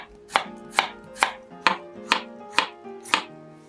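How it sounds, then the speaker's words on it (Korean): A knife chops a peeled carrot into small pieces on a board with eight crisp, evenly spaced cuts, close and clear with no talking. "껍질을 벗긴 당근은 반으로 먼저 자른 후 작은 크기로 써세요."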